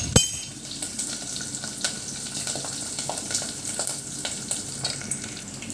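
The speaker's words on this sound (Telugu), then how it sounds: "ఆయిల్ పోసుకున్న అప్పడాలు వేపడానికి." Papads frying in hot oil in a pan, a soft continuous crackle and sizzle with small scattered pops and an occasional utensil tap, fairly quiet and close, no voices.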